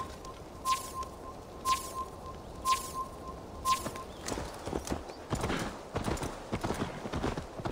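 Horse hooves clip-clopping in Assassin's Creed Valhalla, in a steady, evenly spaced rhythm, then a busier stretch of overlapping hoofbeats and clatter toward the end, moderately close.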